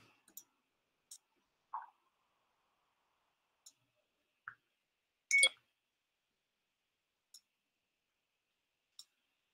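Sparse, faint button clicks from a microcontroller matrix keypad, a handful of short ticks spaced irregularly across near-silence, with one slightly louder pair of clicks in the middle.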